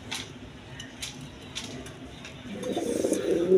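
A pair of red king pigeons coo softly in the background while someone talks over them, a low throaty cooing swelling near the end.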